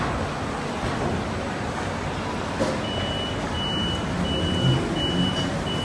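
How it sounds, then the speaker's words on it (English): An automated SecureMyBike bicycle parking mechanism in Singapore opens and starts up with a steady broadband mechanical hum, joined midway by a string of short, regular electronic beeps that ring out clearly over the drone. "can hear the sound of the mechanism open, starting up"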